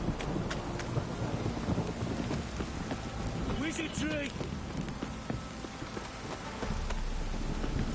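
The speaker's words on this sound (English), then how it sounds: "This downpour's a bastard" Heavy rain pours steadily in The Witcher 3 as thunder rumbles low and intermittently, and a voice briefly exclaims midway over the constant wash of water.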